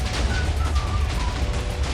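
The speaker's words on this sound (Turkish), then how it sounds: "Şu anda büyük patlama oluyor." Big TNT explosions go off in Minecraft as a dense, continuous low rumble of overlapping booms and blasts, loud and unbroken throughout.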